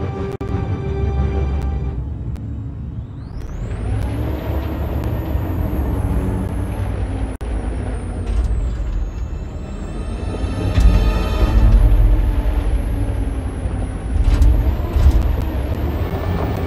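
Truck engine rumbling low and steady in the Detroit: Become Human game, with hissing air-brake bursts and a rising high whine; the sound is continuous and loud, swelling near the end, with no talk.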